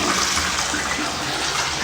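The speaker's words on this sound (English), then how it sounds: "toilet, do a quick flush test" A residential toilet flushes during a move-in inspection, a steady loud rush of water running throughout without pause.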